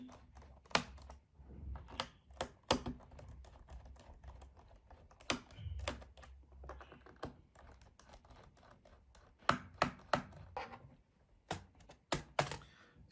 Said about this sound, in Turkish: RAM takviyesi için buradaki bağlantıları açıyorum